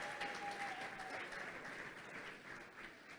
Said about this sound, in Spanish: un aplauso para los que están a partir de los 60.